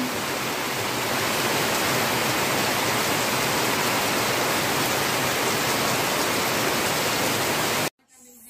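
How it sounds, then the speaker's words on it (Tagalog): Heavy rain pours down in a loud, unbroken hiss that stays constant for about eight seconds, then cuts off abruptly. "Hindi pa tuluyang tumila ang ulan. Grabe pa."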